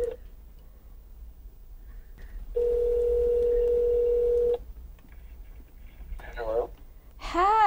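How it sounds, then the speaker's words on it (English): A cell phone call ringing out with a steady tone lasting about two seconds, clear and close, followed by quiet breathing and short bursts of voice-like sound at the end. "It's ringing."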